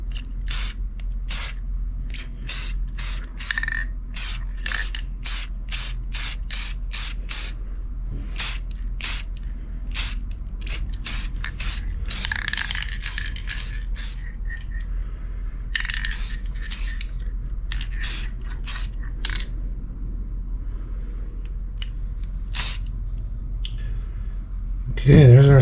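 Spray paint hissing onto a car dashboard of a 1968 Pontiac LeMans as a second coat goes on, many short sharp bursts in irregular rhythm, close and loud, with a low steady hum beneath.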